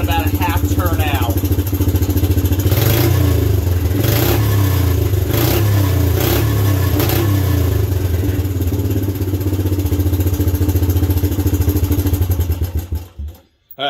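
A Suzuki LT125 ATV with an aftermarket carburetor, its fuel mixture screw just turned out, revs loudly and close up in repeated blips over a chattering idle before cutting off near the end; a voice speaks over it.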